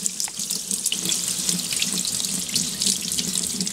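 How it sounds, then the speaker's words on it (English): Kitchen tap water running over oats in a sieve in a home kitchen, a loud, continuous splashing rush with small bursts of spatter throughout, no voices. "we're going to turn the water on and just rinse them off as best we can"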